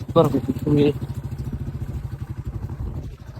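A motorcycle rides along a riverside road near a college, its engine a steady low rumble close by, with a brief burst of talk over it at the start.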